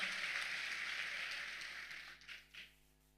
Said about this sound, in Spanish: Alguien que dé un fuerte aplauso al Señor.